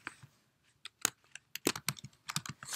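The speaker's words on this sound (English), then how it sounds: "so you simply type the show" A computer keyboard is tapped to type a TV show name into a recommender, with sparse keystrokes at first, then a quicker run of close, crisp clicks.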